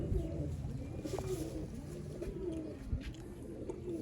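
Sialkoti pigeons in a breeding box coo low and repeatedly, a soft throaty murmur running steadily from close by with no voices.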